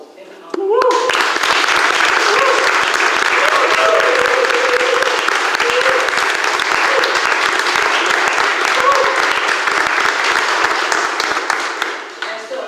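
Audience applause at a Gullah/Geechee lineage and legacy symposium: loud, dense clapping from a large crowd with scattered voices and cheers, starting abruptly and running steadily before tapering off.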